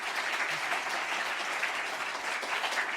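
A church congregation at a Sunday service applauds in a dense, steady round of clapping that lasts throughout and sounds fairly close, with no talking over it.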